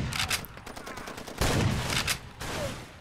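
Enemy guns fire in bursts during a Far Cry 2 firefight, rapid overlapping shots with several louder volleys, close and harsh, with no talk heard.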